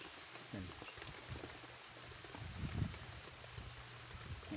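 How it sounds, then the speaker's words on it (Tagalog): Light, steady rain falls in a chilly outdoor setting, a soft continuous hiss of drops with faint rustling, while a voice talks briefly near the start. "Grabe ng ulan guys"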